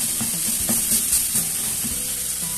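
Ground beef sizzles and crackles in a hot pan while a spoon stirs it, the scraping and stirring knocks rising over a steady hiss of frying.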